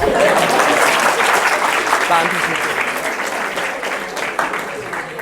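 An audience claps steadily and fairly loudly throughout, with a person talking over the applause near the end.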